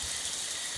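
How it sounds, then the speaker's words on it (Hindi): Rain falls steadily in the Walk Master video game, a soft continuous hiss of drops that stays even and moderately close throughout, with no voices over it. "बारिश हो रही है"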